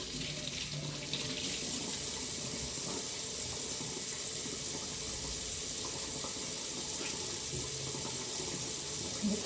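Water runs steadily from a kitchen faucet as vegetables and onion are rinsed, a continuous close hiss of splashing flow lasting throughout with no talk.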